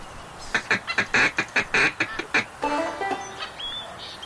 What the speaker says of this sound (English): Look, more ducks over there.